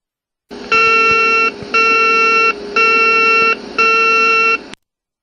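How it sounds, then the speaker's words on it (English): An aircraft overspeed warning horn sounds during a flight deck system test, blaring in four steady, loud bursts of about a second each, separated by short gaps, with no talking. "Pressing the relevant test button will sound the overspeed horn for at least 2 seconds"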